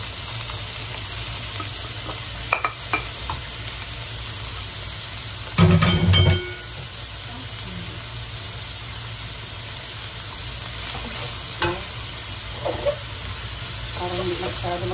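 Noodles fry in canola oil in a pan with a constant hiss and crackle, a brief louder burst of sizzling partway through, and occasional clinks under it.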